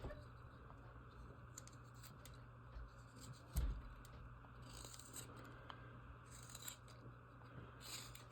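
Quiet, close cutting into a carved ghost Halloween decoration, with light scraping and snipping strokes over a low steady hum, one sharper cut standing out near the middle.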